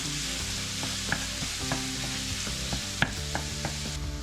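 Ground hamburger meat, seasoned with black pepper, sizzles steadily in a pan while a utensil stirs and breaks it up, giving irregular scraping taps over the constant frying hiss.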